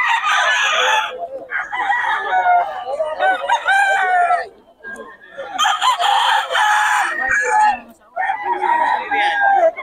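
Several roosters crow repeatedly, loud and close, while chickens cluck in between at a market-like setting, with short gaps between bursts of calling.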